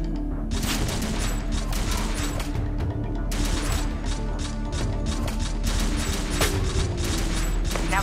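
Weapon fire at practice targets in the mobile shooter Overkill 3, a run of sharp mechanical shots and clacks over a steady low hum, spaced in bursts throughout.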